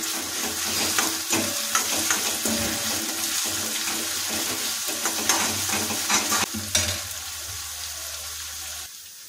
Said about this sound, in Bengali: পেঁয়াজগুলো 7 মিনিট ধরে ভালোভাবে ভাজা করে নিয়েছি